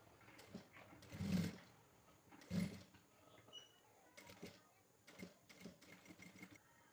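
A sewing machine stitches a neck piece in short bursts, whirring loudly twice near the start and then running in quicker, quieter runs with brief pauses between them, close by and with no talk.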